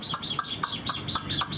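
Hwamei songbird, a tame Chinese hwamei, singing in repeated bright chirps and short whistled notes at a steady rhythm, fairly faint with a background hum and no talk.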